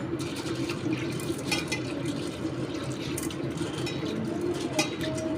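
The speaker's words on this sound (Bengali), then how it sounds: "আমি ছোলার ডালটাকে আগে ধুয়ে নিচ্ছি।" Chana dal (split chickpeas) being washed in a kitchen, with a continuous close splashing and swishing of water around the lentils, steady and moderately quiet throughout.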